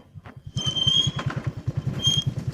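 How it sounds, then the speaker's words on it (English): A motorcycle engine putters with a rapid, pulsing beat while its brakes give off sharp, high squeals in two bursts, close and loud. "My brakes are noisy."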